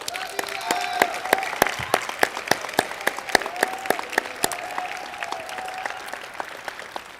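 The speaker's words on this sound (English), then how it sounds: "How about if we give them a round of applause?" Graduation crowd clapping for parents and supporters, a loud, close, sharp patter of many hands with a few voices and cheers mixed in throughout.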